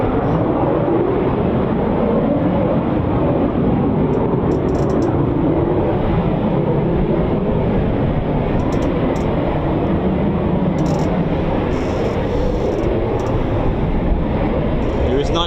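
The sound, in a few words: military jet aircraft taxiing at RAF Coningsby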